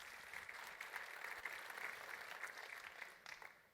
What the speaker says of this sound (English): So thank you for applauding Yuji